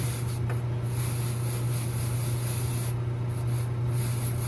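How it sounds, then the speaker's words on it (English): A silver casting is rubbed on blue jeans to polish it, giving a steady, close, continuous rubbing hiss over a low hum with no speech. "you should be able to polish it on your blue jeans"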